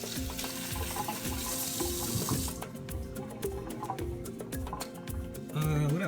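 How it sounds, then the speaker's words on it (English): Water from a kitchen tap runs steadily as hands are washed during soup preparation, close and continuous, with splashing and small clatters against the sink. "All right, wash my hands."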